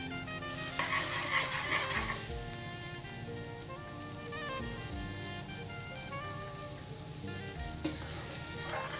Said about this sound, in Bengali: দিয়ে খুব ভালো করে নেড়ে ভাজতে হবে।